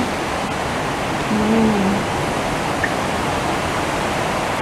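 Heavy typhoon rain falls steadily with a broad, constant hiss like rushing flood water, loud and unbroken. A brief faint tonal sound rises partway through.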